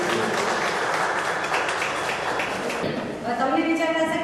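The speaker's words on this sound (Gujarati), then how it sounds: "તો આપ જોરદાર અને તાળીઓથી સ્વાગત કરો એમને" An audience claps to welcome a guest on stage at a talk in Porbandar, a steady wash of applause that fades near the end as a voice and tonal sound come in.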